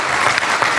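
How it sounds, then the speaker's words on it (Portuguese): A crowd applauds a student-movement delegation at a union gathering: a brief, dense burst of many hands clapping together, steady and loud throughout. "Uma salva de palmas para essa companheirada."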